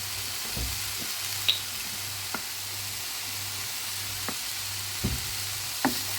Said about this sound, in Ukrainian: Так грибочки будуть смачніші можуть краще підсмажитися.